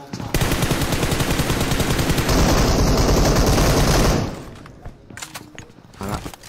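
Heavy, rapid automatic gunfire from a shooting video game rattles in sustained volleys, loud and close, swelling before cutting off into scattered quieter shots and thumps.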